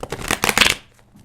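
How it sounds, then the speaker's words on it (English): A deck of tarot cards is shuffled close up, giving a quick burst of riffling flutters that fades into a soft tail within about a second. "I'm going to slice and dice this deck and get it going"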